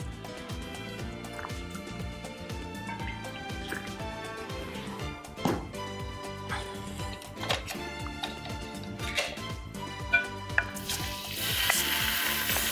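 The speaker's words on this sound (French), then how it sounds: "On va placer l'oignon dans une marmite, on va le faire tomber." Chopped onion sizzles and fries in a pot of olive and sunflower oil, a steady crackling hiss with occasional stirring scrapes and clinks, close and continuous throughout.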